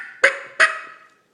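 Two sharp, loud turkey yelp-like notes from a mouth call, imitating a wild turkey, each note starting abruptly and trailing off, heard alone with no talking.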